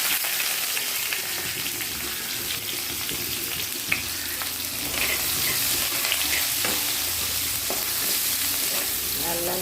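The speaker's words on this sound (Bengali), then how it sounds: "লাল লাল একটু ভাজা হয়ে আসবে," Chopped onion fries with cumin in a pan, giving a steady, close sizzle. Occasional scrapes and clicks come through as it is stirred.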